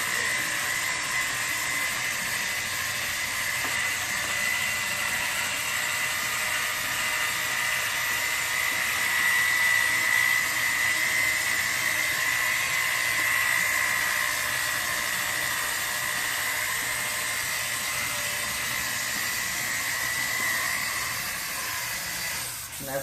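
A power polisher runs against a car headlight lens, giving a continuous high-pitched whirring hiss that stays steady and close for the whole stretch, with no talk over it.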